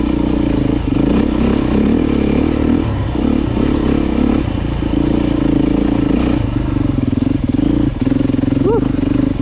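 A Beta dirt bike engine drones loudly and steadily up close while riding, with small throttle changes and rattles from the trail, and a rider's voice breaking in now and then.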